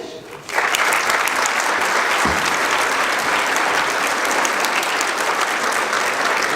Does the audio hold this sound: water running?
no